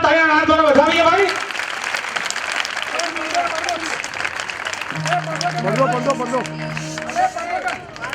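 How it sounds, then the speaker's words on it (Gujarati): Applause from a crowd at a Jain diksha mahotsav ceremony in Ahmedabad, a sustained wash of clapping that rises and lingers under a loud voice and music. "જોરદાર તાળીના નાદ દ્વારા વધાવીએ ભાઈ"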